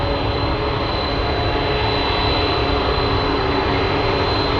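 Lynden Air Cargo Hercules turboprop running at Anchorage airport before departure, a steady loud broadband engine roar with a constant high whine, unbroken and without talk.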